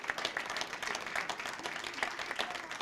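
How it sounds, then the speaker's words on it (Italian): Audience applauding outdoors at the end of an evening radio concert at the Citadelle esplanade in Bastia, during the Fête de la musique: steady, dense clapping held at a moderate distance, with no voices over it. "Merci à vous, vous pouvez vous applaudir"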